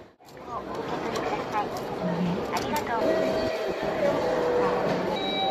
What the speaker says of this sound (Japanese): もうとりあえず新幹線乗ります